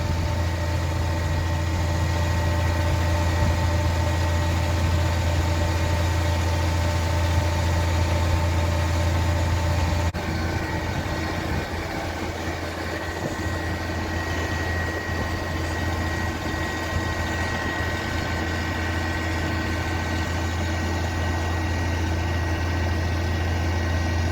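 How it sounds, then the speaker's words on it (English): Cement truck idling at a home foundation construction site, waiting for a crane, with a steady, loud low engine rumble and hum throughout and no talking. "Over here we have the cement truck that's just waiting for this crane to get in place."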